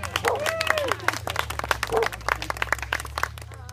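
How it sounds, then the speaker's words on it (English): Audience clapping for a man named Spencer, a dense patter of handclaps throughout with voices and a few calls mixed in, over a steady low hum. "big round of applause for Spencer"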